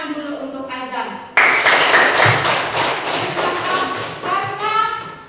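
Applause breaks out abruptly among a classroom audience, a dense burst of clapping that slowly thins over several seconds, with voices speaking before and during it.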